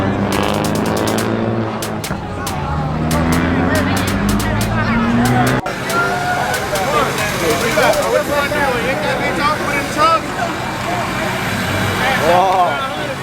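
Car engines, including a WRX, rev and whine loudly amid crowd chatter at a car meet, with roaring bursts rising and falling as vehicles do burnouts nearby.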